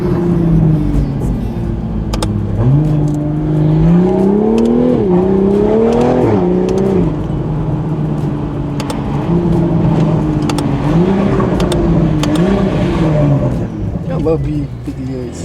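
A car engine with a downpipe and stock exhaust revs loudly and rises and falls in pitch with a gritty exhaust note, close by and continuous, with voices faintly underneath.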